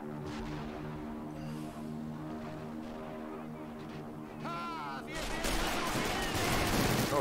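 Mortar rounds land in a Men of War 2 battle, heavy booms and gunfire swelling louder toward the end over a steady droning backdrop, with someone talking throughout.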